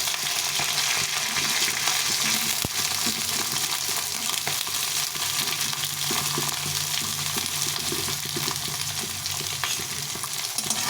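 Eggplant frying in hot oil with green chillies gives a dense, continuous sizzle and crackle, close up, with occasional stirring scrapes and no talking.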